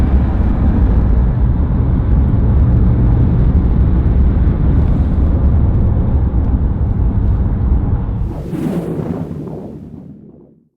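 A Porsche Taycan Turbo electric car accelerating hard in Sport Plus mode gives a loud, steady, broadband rush of drive and road noise that holds for several seconds, then drops away and fades out near the end.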